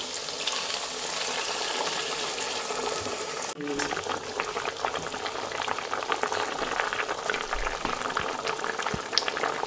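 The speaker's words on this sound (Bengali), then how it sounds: "জলটা আমি গরম করে রেখেছিলাম, এই গরম জলটা আমি দিচ্ছি" Hot water is poured into sautéed spices in a pan, then the mixture boils and simmers for an eggplant and hilsa fish curry, giving a steady bubbling hiss with a sharp splash partway through.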